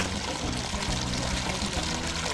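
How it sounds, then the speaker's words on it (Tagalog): Cold spring water in the Cordillera region of North Luzon flows steadily where soft drinks are chilled in a bucket, a dense, continuous rushing pour close by with no talk. "yung bukal na tubig na malamig, ito po yung nagsisilbing ref nila dito"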